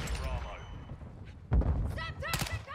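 A Semtex grenade goes off in a first-person shooter match, giving one loud, close, low thump at mid-clip. Constant game noise sits around it, and a voice talks over the action.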